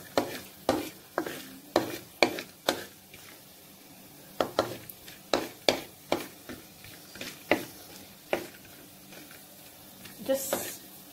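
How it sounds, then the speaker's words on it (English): Broken cashew nuts frying in a pan are stirred with repeated sharp scraping strokes, about a dozen and a half in a loose rhythm with short pauses. A faint sizzle sits underneath, and a clatter comes near the end. "Stir them for a while."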